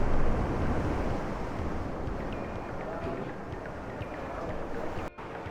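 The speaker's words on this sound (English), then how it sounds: "I could hear the ocean, the waves." Steady broadband roar of ocean surf on the San Diego, California coast, with wind rumble, continuous and fairly loud throughout.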